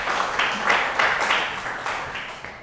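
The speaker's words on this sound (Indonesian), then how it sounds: "Tepuk tangan dulu buat kita semuanya." A group claps together in a steady rhythmic beat at a school gathering in Indonesia, each clap landing evenly a fraction of a second apart, fairly loud and close.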